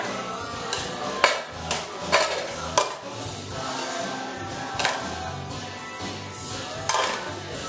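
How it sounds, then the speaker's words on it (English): Pasta tossed with sauce in a stovetop pan, a series of sharp metallic clanks and scrapes of utensils against the pan over a continuous sizzling background, close and fairly loud. "Top it generously we'll toss it so it doesn't all stick together."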